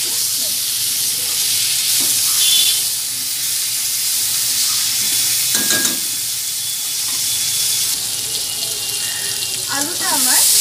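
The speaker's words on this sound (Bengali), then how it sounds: "আলুটা আমি একটু ভেজে রেখে নেব।" Potatoes fry in a pan for egg curry with a continuous bright sizzle and a few clinks from the utensils. There is a watery, running-tap-like hiss throughout and faint voices in the background.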